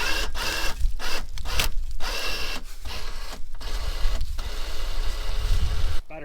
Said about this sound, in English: Now when I let this winch off, hopefully I can pull this pipe and it'll bring that wire up to the top.